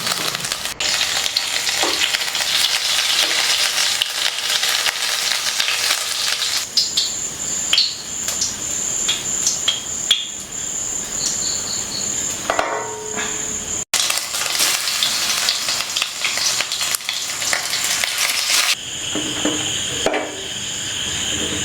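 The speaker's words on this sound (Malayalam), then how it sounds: "തിളച്ചു വരുന്ന എണ്ണയിലേക്ക് ഇതിൽ ഒരേ പീസും ഇട്ട് കൊടുക്കുക" Steady, loud crackling sizzle of banana fritters deep-frying in hot oil, continuous throughout with occasional clinks and bubbling bursts.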